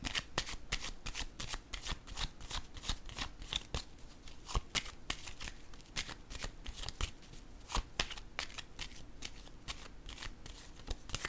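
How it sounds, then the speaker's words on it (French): Tarot cards are laid down and shuffled in a steady run of crisp, close slaps and riffles lasting about eleven seconds, with no voices. "Je vais déposer une autre carte dessus."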